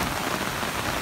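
Heavy rain during a hailstorm at a roundabout, a dense, even hiss of drops pounding surfaces, loud and close without break.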